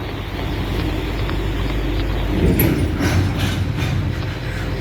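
Southbound CSX I168 auto/stack freight train passing on Boices Lane near CP-90, a steady loud low rumble and rolling roar held throughout, swelling slightly midway.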